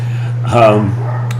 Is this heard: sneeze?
no